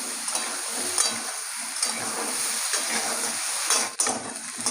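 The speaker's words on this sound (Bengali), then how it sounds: "এবার আমি আলুগুলো তেলে দিয়ে নিচ্ছি" Potatoes frying in a little oil in a home kitchen, a steady close sizzle and hiss with faint stirring scrapes and no talk over it.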